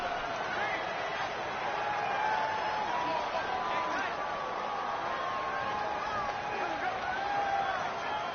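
Loud, steady stadium crowd roar in Madden 19, a Jets vs. Jaguars game, with home fans making noise for the offensive line's snap count; a dense, continuous wash of babble and yelling throughout, with no clear commentary over it.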